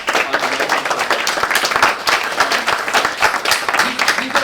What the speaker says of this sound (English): I think we know a round of applause to this gentleman here